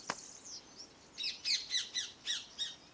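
Birds squawk and chirp outdoors in a rapid run of six or seven bright, rhythmic calls following a single sharp chirp and softer twittering, fairly close and clear over quiet background.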